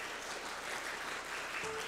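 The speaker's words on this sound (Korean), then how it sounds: "여러분들 한 분 한 분 소개가 될 때마다 따뜻한 박수로 환영해 주십시오" Warm applause welcoming a dignitary introduced at a Korean AI debate and paper award ceremony, a soft, even spread of clapping from a seated audience, moderately distant and without voices.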